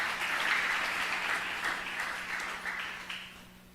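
A church congregation applauds during a Tagalog sermon, a dense, steady wash of many hands clapping together that tapers gradually toward the end, with a faint low hum underneath.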